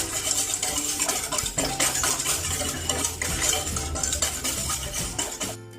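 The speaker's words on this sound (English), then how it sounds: "Then we just have to stir it until it is thick." An egg yolk and salt mixture being stirred continuously in a pan until it thickens, with a dense, busy scraping and clicking of the utensil that runs close and fairly loud throughout before cutting off at the end.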